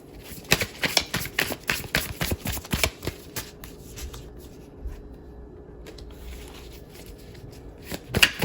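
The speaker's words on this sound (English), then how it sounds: "I'm just going to get all these cards out." A deck of tarot cards being handled and laid out at close range: a quick run of crisp riffling snaps, then softer slides and shuffles of cards, and another burst of flicks at the end, with no voices.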